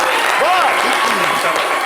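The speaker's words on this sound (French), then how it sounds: "Les amis de Yamsoko, applaudissez pour notre ami." A studio audience applauds on a French-language radio show in Côte d'Ivoire, steady clapping running under a presenter's voice throughout the short stretch.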